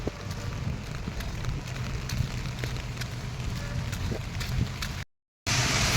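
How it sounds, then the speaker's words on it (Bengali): Steady rain falling on an umbrella during a walk in cold weather, a dense close patter with scattered drop ticks that cuts out briefly near the end, with no talking. "তার উপরে এরকম বৃষ্টি ভাবো"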